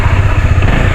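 A motorcycle engine runs steadily up close with a constant low throb, ridden on a rough, rainy-season mountain road between Tabuk and Balbalan in Kalinga.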